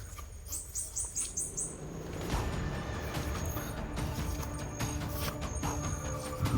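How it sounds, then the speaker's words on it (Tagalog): Small birds chirp in a quick string of short, high calls at first, then fade under a steady outdoor rustle and rumble. "may mga boses ng ibon"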